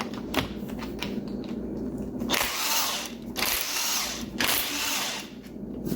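Power tool spinning out oil pump bolts on a 1.8 Miata engine during teardown, several bursts of buzzing whir with short pauses between, close and loud, no speech.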